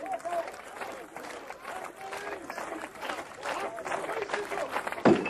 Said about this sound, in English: the crowd getting behind him now